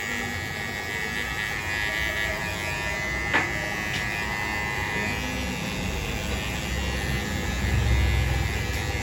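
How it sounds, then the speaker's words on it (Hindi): An electric zero trimmer buzzes steadily as it cleans ear hair in a barbershop, a close, continuous motorized whir that runs without pause and carries no talk. "ज़ीरो ट्रिमर से ही अब कान में जो आए हुए बाल हैं उनको भी क्लीन कर रहे हैं"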